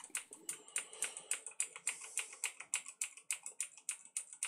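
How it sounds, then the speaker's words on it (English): Computer keyboard keys tapped repeatedly in a steady, rapid run of crisp clicks, close and alone, while trying to load boot on a PC being built. "I'm clicking F8 to load boot."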